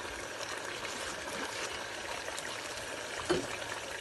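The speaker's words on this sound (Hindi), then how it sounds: "इसके अंदर 1 लीटर पानी डाल देंगे" Water poured over mutton and potatoes for Sindhi biryani runs as a steady trickling stream for a few seconds, close and moderately loud with no talk.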